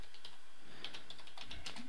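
Rapid typing on a computer keyboard while programming a PIC18F4550 microcontroller, a steady patter of close, fairly quiet key clicks heard alone.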